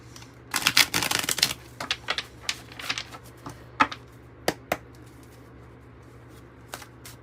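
Oracle cards are shuffled and pulled by hand, starting with a quick flurry of riffling clicks, then scattered single snaps and taps that thin out to near quiet.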